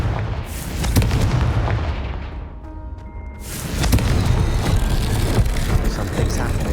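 Booming blasts from the Confringo fire spell in Hogwarts Legacy, loud crackling explosions that fade into a brief lull before another heavy burst roars back, with game noise throughout.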